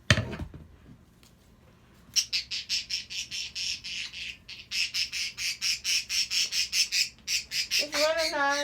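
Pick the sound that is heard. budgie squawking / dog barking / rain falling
budgie squawking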